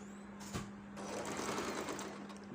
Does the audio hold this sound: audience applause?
no